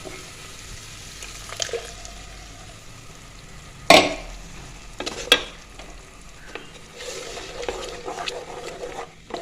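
Blended tomato juice pours into a hot pan for egg manthi: a soft background sizzle, then a sudden loud splash and hiss, followed by bubbling and stirring scrapes.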